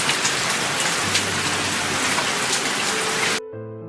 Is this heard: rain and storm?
yes